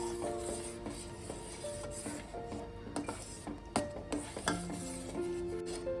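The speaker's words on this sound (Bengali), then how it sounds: "সেটা দিয়ে আমি কিছুক্ষণ এটাকে ভালো করে নাড়ব।" Semolina being stirred into boiling milk in a pot for mango payesh, a spoon scraping and clinking against the metal in an irregular rhythm, close and moderately quiet over a faint bubbling hiss.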